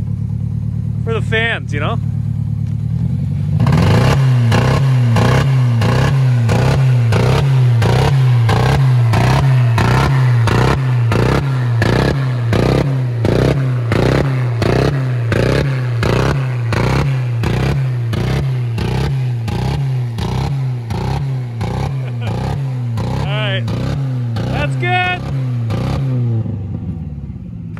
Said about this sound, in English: give her one more last rev for us